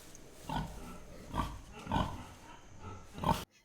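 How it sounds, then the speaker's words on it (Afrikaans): A pig snorts and grunts four times at roughly even intervals, fairly faint and close, with no talking. "Die vark snork."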